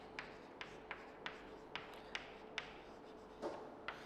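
A teacher writes a heading on a classroom board for a chemistry lesson: a series of about nine sharp, evenly spaced taps and scratches of the marker or chalk, close and fairly quiet with no talking.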